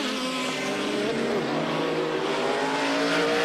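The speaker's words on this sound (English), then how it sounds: "The race goes green, and Clark immediately puts his pole-winning Spice into the lead from the two Silk Cats" Group C and GTP sports-prototype race cars, including a Spice, Silk Cut Jaguars, a Nissan GTP and a Mazda, roar together at Brands Hatch as the race goes green, a loud continuous engine blare with layered revving tones and no talk.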